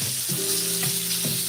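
A steak sears in frying butter topped with garlic and thyme, giving a loud, steady sizzle close by with a few brief stirring or shifting sounds and no talk.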